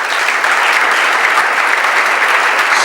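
Steady applause from a congregation at a French-language religious gathering, continuous and fairly loud dense clapping with no voices over it.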